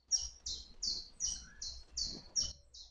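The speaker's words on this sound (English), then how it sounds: "hear the bird song like we're listening to there this morning" Early-morning birdsong: a bird repeats short, bright chirps about every half second, moderately faint, with no voices.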